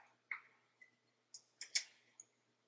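Mouse clicks while selecting the highlight tool in Microsoft Word, about seven small sharp clicks spaced irregularly, close and quiet, with no talk.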